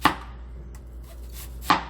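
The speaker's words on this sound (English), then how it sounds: "Now time for some onion. I'm sure we're all familiar with onions. We're gonna slice them" Two sharp knife chops through onion on a cutting board, one at the start and one near the end, close and crisp, with quiet room hum between and no talk.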